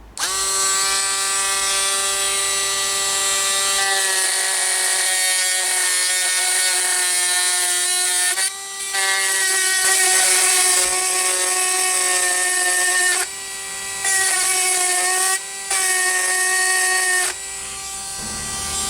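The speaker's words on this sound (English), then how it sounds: "Then we'll quickly try this milling bit on the wood" An Aldi budget rotary tool fitted with a milling bit cuts into wood, giving a steady high-pitched whine that shifts in tone and dips briefly several times as the bit bites in and eases off.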